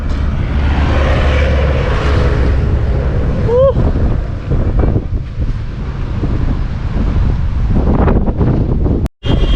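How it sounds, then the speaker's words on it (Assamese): Loud mountain wind near the Zoji La pass in Ladakh buffets the microphone with constant low rumble, a brief whistle-like tone partway through and a sudden dropout near the end. "আগত আৰু বহুত বতাহ দি আছে"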